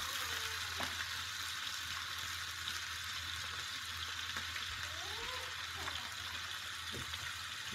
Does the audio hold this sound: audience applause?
no